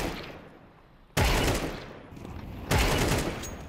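Two loud bursts of Mac-10 submachine gun fire in the shooter game Counter-Strike 2 (CS2), each sharp onset followed by a dense, decaying rattle, the second arriving about a second and a half after the first.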